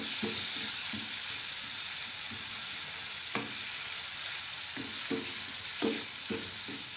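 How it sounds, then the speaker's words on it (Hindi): Okra fries with spices in a pan, a soft continuous sizzle with occasional scraping stirs and light clinks of a utensil against the pan, fairly quiet and with no voices. "इसको 1-2 मिनट तक भूनें।"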